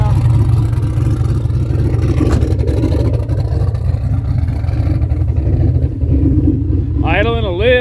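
Big turbo G-Body Malibu engine idles rich on a cold start, a loud, lumpy low rumble running steadily with a slight lope, and a brief rising whistle near the end.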